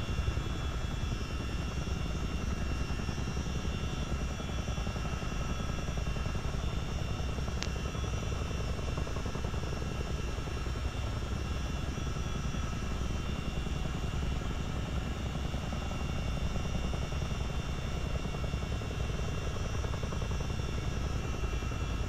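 A CH-47D Chinook twin-rotor military helicopter in Microsoft Flight Simulator gives off a dense, unbroken engine and rotor drone, loud and steady for the whole stretch with no voices.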